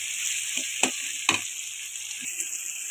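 Steady frying sizzle of masala gravy for fish curry with a few scraping stirs of a spoon against a pan, close and fairly quiet, no talking.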